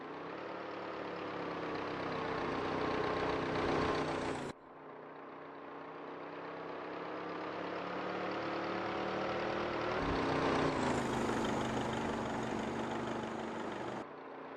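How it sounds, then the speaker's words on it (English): A vintage 1929 racing car engine in a racing simulation drones steadily and loudly, its pitch climbing gradually with a couple of brief shifts, heard alone without talk. "Based on the engine sound and the lap time, I think Uatilla's potentially in fuel saving mode."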